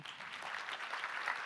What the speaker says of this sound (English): Please give a warm applause to Wijnand IJsselsteijn